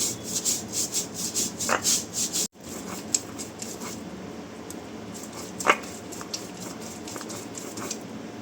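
Poppy seeds being ground into paste on a stone, a repeated rough rubbing and rasping stroke, steady and close, with a brief pause partway through before the grinding continues more softly.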